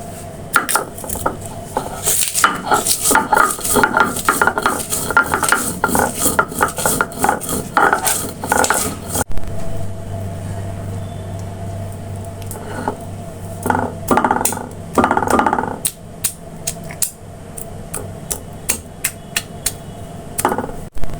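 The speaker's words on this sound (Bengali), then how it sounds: "ভর্তাটা বেটে নেব।" Fried onion and garlic are ground into a pointed gourd seed mash, giving a dense run of scraping, knocking and grinding strokes at close range, then sparser, sharper clacks later.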